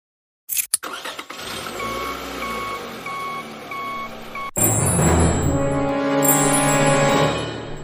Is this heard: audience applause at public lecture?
no